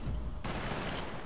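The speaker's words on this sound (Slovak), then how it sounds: "Niekto po mne strieľa" Dense automatic gunfire in the video game Battlefield: Bad Company, a loud continuous burst of rapid shots with no voices.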